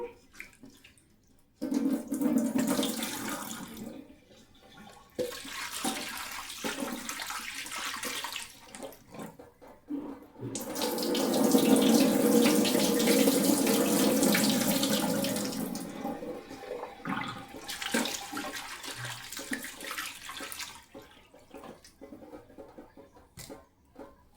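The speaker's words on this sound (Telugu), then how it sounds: "ఈ నల్లేరుని వాష్ చేసుకుందాము." Tap water runs into a sink while nalleru greens are washed by hand, a steady splashing flow that starts and stops in several bursts over about twenty seconds, fairly close and without speech.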